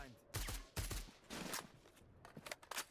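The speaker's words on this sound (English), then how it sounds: "I'm listening to gunshots." Several bursts of rapid gunfire in a video game, a few close and loud, others quicker and farther off, crackling in separate clusters with a voice faintly underneath.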